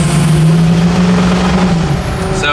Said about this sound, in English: I'm just gonna push it down to about half throttle so you guys can kind of watch the